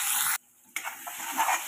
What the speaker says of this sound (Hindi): इसको भी 2 मिनट के लिए अच्छे से भून लेंगे।